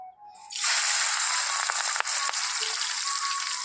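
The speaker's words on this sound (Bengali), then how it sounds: "নুন হলুদ দিয়ে মাখিয়ে সেটাকে তেলেতে দিয়ে ভেজে নিচ্ছি" Prawns coated with salt and turmeric fry in hot oil, giving a loud, steady hiss and sizzle that starts suddenly and keeps on evenly, with a few small crackles and pops.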